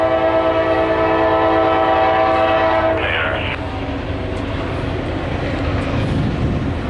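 A loaded CSX freight rock train sounds a loud, sustained multi-chime horn up close, then the horn cuts off and the rumble and clatter of railcars rolling past carries on.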